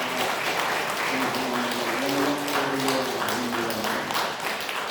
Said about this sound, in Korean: 우리 주님께 우리 감사와 찬송과 영광의 박수를 올려드리겠습니다